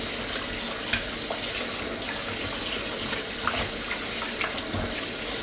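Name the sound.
rinsing produce in running water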